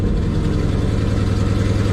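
Car engine starting and idling after PCM troubleshooting, a steady loud low rumble that stays even throughout without revving.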